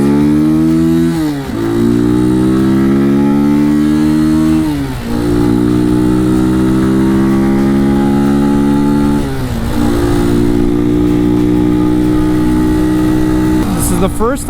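A Janus Phoenix 250 cafe racer motorcycle's single-cylinder engine hums steadily on a test ride, rising in pitch through several gear runs with brief dips at the shifts, loud and close throughout under wind noise.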